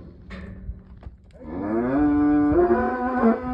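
A cow moos loudly and close by during a cattle drive, one long drawn-out low call with a rising, sustained tone after a brief quieter lead-in of farm background noise.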